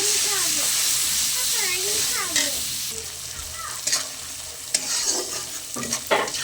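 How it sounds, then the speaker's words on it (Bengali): Spice paste frying in a pan for a prawn and jackfruit curry, a loud hissing sizzle with squeaky scraping strokes of the spatula, growing choppier with sharp clacks toward the end. "এবারে আমি মশলাটা ভালো করে কষিয়ে নেব"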